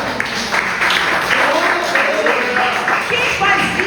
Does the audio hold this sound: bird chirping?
no